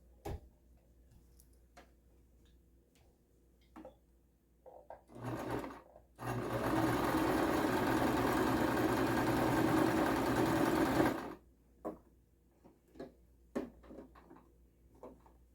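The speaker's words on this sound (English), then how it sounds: "I'm just going to sew down the edge of it with a zigzag, just to close this off with a zigzag stitch." A sewing machine runs a zigzag stitch along a fabric edge in one steady, close, whirring burst of about five seconds, with a brief start-up before it and scattered handling clicks on either side.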